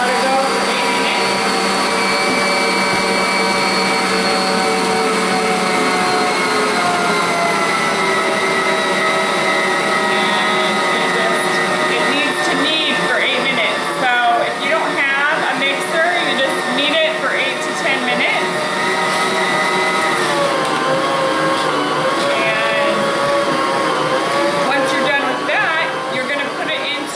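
A stand mixer kneads homemade bread dough at high speed with a loud, steady motor whine and churning drone that runs throughout, while a person talks over it.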